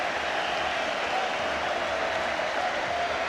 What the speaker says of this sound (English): Brian Laudrup's skill applauded richly on the terraces